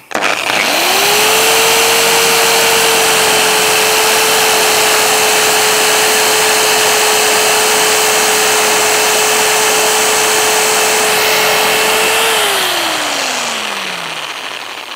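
A cheap mini cordless 6-inch chainsaw cuts through a 3x2 piece of wood held in a vise: a loud, close, steady high whine that holds for about twelve seconds, then winds down as the motor slows.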